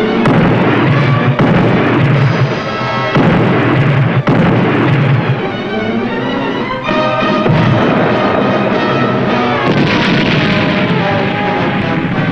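Deck gun on a submarine fires in a World War II naval TV drama, a series of loud booming blasts set against dense, continuous battle noise and music, with no pause from start to finish.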